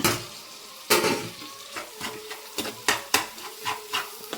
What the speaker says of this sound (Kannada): ನೀಟಾಗೆಲ್ಲ ಮಿಕ್ಸ್ ಮಾಡ್ಕೊಳ್ಳೋಣ